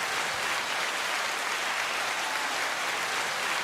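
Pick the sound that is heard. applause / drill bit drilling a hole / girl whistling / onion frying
applause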